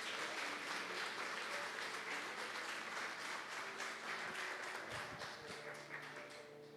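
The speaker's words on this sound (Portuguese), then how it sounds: "vamos aplaudir com força ao Senhor" Steady, dense applause from a large church congregation, continuous and loud throughout with a slight fade at the end.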